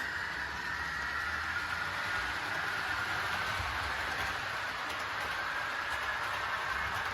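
A model train on a home caboose layout runs along the main line, a steady faint rumble and hiss that stays even throughout with no voices.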